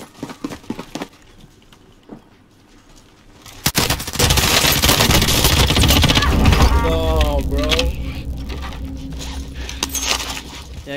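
Automatic gunfire in Call of Duty: Warzone erupts after a quiet stretch and stays loud and dense for several seconds, bursts crackling over a busy game mix before tapering off.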